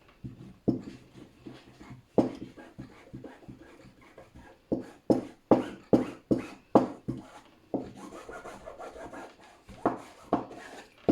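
Water-repellent impregnation is rubbed onto clothing in repeated firm back-and-forth strokes, close and fairly loud, a steady rasping rhythm of about a dozen scrubs with short pauses between, no talking.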